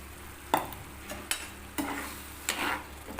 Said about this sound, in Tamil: இப்போ வந்து புளி கரைச்சலை ஊற்றிக்கலாம்